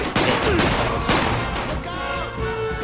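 Rapid bursts of gunfire from the Xbox 360 game Quantum of Solace crackle in quick succession, loud and close, with sharp shots punctuating a dense, noisy barrage.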